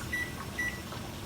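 The timer on a pressure canner, started as the canner holds 11 pounds of pressure, gives two short, evenly spaced electronic beeps over a low background hum.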